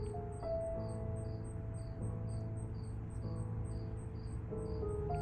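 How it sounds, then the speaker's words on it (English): Steady, rapid chirping of crickets in an overgrown yard pulses continuously throughout, with a layer of music underneath carrying sustained tones. "the music's drowning out the crickets that are out in the yard right now"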